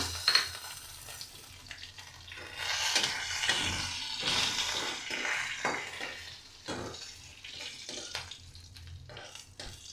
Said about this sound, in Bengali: তেজপাতা আর গরম মশলা একটু জিরে দিয়ে আমি ফোড়ন দিয়ে নিলাম।